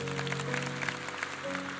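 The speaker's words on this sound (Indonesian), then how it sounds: "Kasih tepuk tangan untuk Tuhan" A church congregation claps together in steady, dense applause, with sustained organ or keyboard tones sounding underneath throughout.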